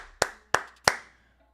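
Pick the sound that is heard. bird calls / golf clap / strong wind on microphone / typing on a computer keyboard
golf clap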